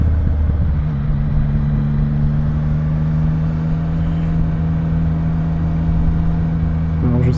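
A car rolls slowly along a quiet road in a small village in Loir-et-Cher, its engine giving a steady low hum under light throttle, with a brief clatter at the end.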